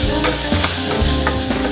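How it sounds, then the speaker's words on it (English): Onions frying with asafoetida in a pan, stirred with a spoon: a steady close sizzle with a few scraping strokes of the spoon through it. "And give it another stir."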